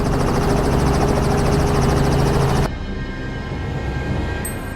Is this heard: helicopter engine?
yes